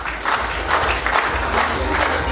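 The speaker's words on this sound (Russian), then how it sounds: "Ну что ж, еще раз громкие аплодисменты командам." Loud applause from the audience at a KVN student comedy league final, hands clapping continuously in a crowded hall.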